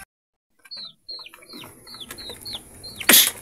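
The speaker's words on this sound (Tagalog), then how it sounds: "Ang kulit ng manok ng Timot" A chicken makes a run of six short, evenly spaced clucking calls, close by and alone with no talk, followed by a sudden loud burst that sounds like wing flapping or a sharp squawk at the end.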